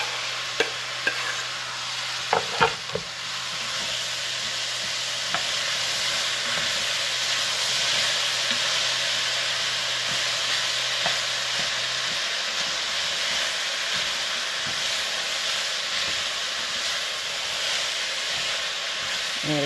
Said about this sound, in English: And now we're going to add our roasted tomato.